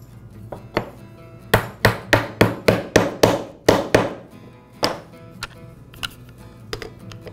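A wooden dowel joint is tapped together with a series of sharp, evenly spaced knocks, about eight quick hits in a row followed by a few scattered lighter taps, close and clear in a quiet workshop.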